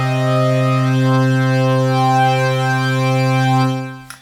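Korg opsix synth pad through a PolySix-style low-pass filter, a warm, muted sustained chord held steadily for several seconds and then released, alone with no talk.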